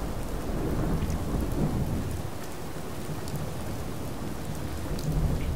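Steady rain pours over rolling thunder in the Rain Light weather of the Fallout 4 True Storms mod, a dense, even wash of downpour with low rumbles underneath and no voices.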